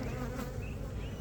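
Honey bees at an open beehive during a frame inspection make a dense, continuous droning buzz, close and steady with no voices.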